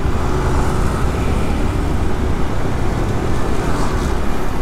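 Continuous street traffic on a congested road in Bali between Petitenget and Canggu, a dense steady wash of engines and road noise, loud and unbroken.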